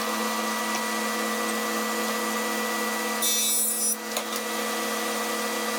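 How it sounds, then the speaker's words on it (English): A loud, steady wood jointer whine drones throughout, with a brief harsh cutting burst near the middle as a board passes through, then the motor continues alone. "I'm going to run it through the joiner because to me that's more perfect."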